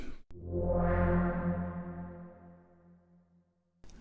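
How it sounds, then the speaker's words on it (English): A sustained synthesizer tone in Serum with a reverb effect, a long reverberant tail, swelling then slowly fading away over a few seconds, heard alone. "A reverb."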